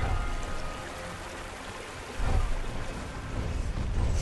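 Rushing waterfall water in the Guild Wars 2 game world, a steady broad splashing roar that swells louder partway through, with no talking over it.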